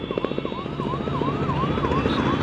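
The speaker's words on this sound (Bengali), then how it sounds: "ওই দেখুন হেলিকপ্টার যাচ্ছে উপর দিয়ে হেলিকপ্টার দেখছে" Helicopter passing overhead at the Mahakumbh fair in Prayagraj, a steady mid-distance rotor drone under a repeating warbling siren-like tone and background crowd noise.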